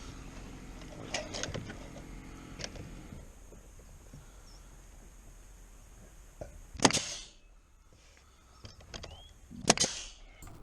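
A nail gun drives nails into vinyl siding on a building. Two sharp, fairly faint pops land a few seconds apart over a quiet background.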